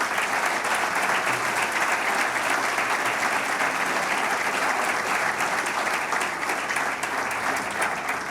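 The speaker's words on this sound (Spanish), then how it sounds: "Quiero pedir un fuerte aplauso para ella." Loud, sustained audience applause fills a book presentation in Barcelona, dense steady clapping from a large crowd continuing without a break.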